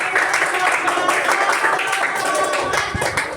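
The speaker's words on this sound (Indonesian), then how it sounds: "ayo tepuk tangan semuanya untuk hari ini" A primary school class claps their hands together at the close of a lesson, a brief burst of mixed clapping with a voice speaking over it.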